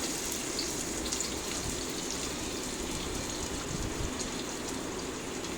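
Chopped onions dropped into a hot pan of oil and curry leaves for mushroom gravy, giving a steady, dense sizzle that holds evenly throughout, fairly close and with no voices.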